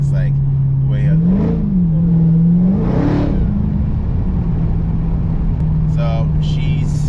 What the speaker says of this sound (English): people can hear this supercharger coming from a mile away